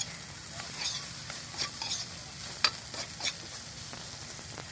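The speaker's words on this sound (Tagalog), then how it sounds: "Niluto po natin sa mantika. Paluto na to." Food frying in cooking oil on a farm, a steady close sizzle with scattered crackles and stirring clicks, no voices.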